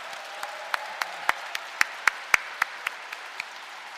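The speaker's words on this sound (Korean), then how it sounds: "신부님에게 다시 한번 큰 박수 드리도록 하겠습니다" Audience applause after a Lenten lecture by a Catholic priest, heard as about a dozen scattered, crisp individual claps in a loose rhythm over a quiet hall, fading out.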